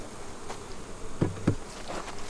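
Honeybees at an open beehive during a queen install, a soft steady buzzing drone close by with a couple of louder individual bee passes near the microphone.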